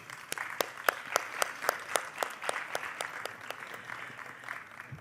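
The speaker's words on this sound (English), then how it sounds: "Let's give a big round of applause" Applause from a small group at a women's empowerment event: distinct, fairly regular claps ring out one after another at moderate volume, with a light murmur underneath.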